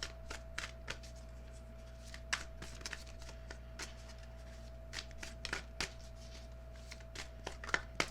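Tarot cards are shuffled close by in quiet, soft riffling and flicking bursts with small taps, repeated irregularly over a low steady background hum.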